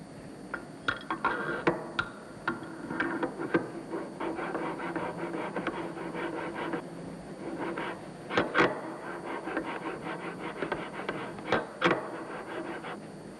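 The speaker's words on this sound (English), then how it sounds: "Finally, the valve housing's mating surfaces are ground as well." Grinding of the mating surfaces on a marine two-stroke engine fuel valve housing during an onboard overhaul, a steady close scraping rasp punctuated by sharp irregular clicks and knocks, with no voices.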